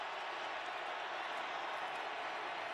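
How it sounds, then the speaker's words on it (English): A football stadium crowd roars at full volume, a dense, steady wash of cheering and noise that holds without a break and sits somewhat distant. "Crowd at full volume right now."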